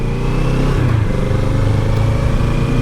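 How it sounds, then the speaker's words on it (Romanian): A motorcycle engine runs steadily and loud while riding on Austrian roads in Styria and Lower Austria, a continuous close throbbing drone with a slight shift in pitch midway and wind rush, no speech. "parcă merge motocicleta mai bine"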